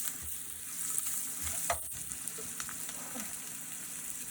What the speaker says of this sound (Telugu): ఇంకా పుదీనా వేసుకొని ఫ్రై చేసుకోవాలి